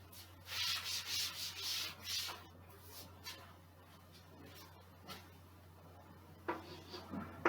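An eraser rubs across a board to wipe away a physics diagram, a series of brisk rhythmic scrubbing strokes at the start, then quieter scattered rubs and taps, with no talking.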